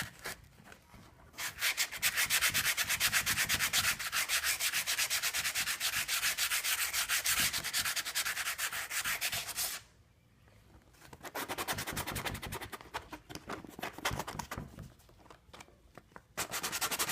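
Edges of a damaged Acura RSX bumper sanded in long, continuous rasping strokes, close and loud, breaking off once near the middle before resuming more unevenly, with no speech.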